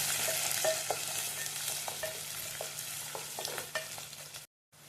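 Tempering for a brinjal curry with garlic, mustard seeds, cumin, onions and green chillies sizzles in a pan while a spoon stirs, steady frying hiss with repeated scraping strokes, ending abruptly.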